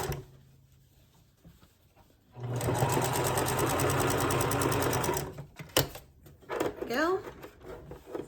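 A sewing machine stitching doll clothes closed runs in a loud, steady whirring burst of a few seconds after a quiet start, then stops, followed by clicks and handling noises with a voice in the background.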